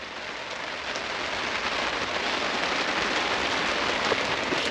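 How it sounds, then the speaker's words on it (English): Heavy rain drums steadily on a camping truck in Utah, a dense, close, continuous hiss that swells slightly as it goes on; no distinct thunder stands out and nobody speaks. "it's pretty heavy rain. It's some thunder."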